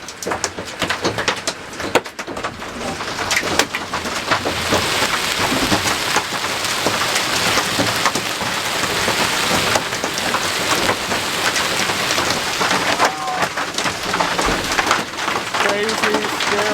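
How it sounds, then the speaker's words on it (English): Big hail pours down hard during a storm, a dense, steady roar of impacts with a continuous loud wash of noise throughout, and a person speaks briefly over it. "there is some serious hail coming down"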